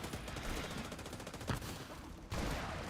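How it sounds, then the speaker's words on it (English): Gunfire from a sniper in the video game The Division 2, a burst of sharp cracks and rattling shots with a pronounced report midway and another sudden blast near the end, fairly faint overall. "The sniper shooting at me."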